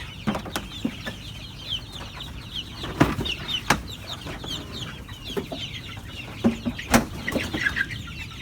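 Young chicks in a brooder peeping and clucking, a busy close chorus of short chirps with scattered louder calls and light scuffling throughout.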